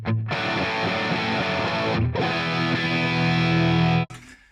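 Electric guitar runs through a Line 6 HX Stomp set to 1 meg input impedance, producing loud, distorted sustained chords with two brief breaks between strums, close and alone before cutting off sharply.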